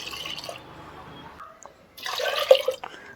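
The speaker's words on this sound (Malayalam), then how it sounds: "ഇനി ഈ പരിപ്പ് വേവാൻ ആവശ്യത്തിനുള്ള വെള്ളം ചേർത്ത് കൊടുക്കാം." Water is poured into a pressure cooker holding toor dal for sambar, a soft trickle at first, then a louder gurgling splash toward the end, close by with no talk.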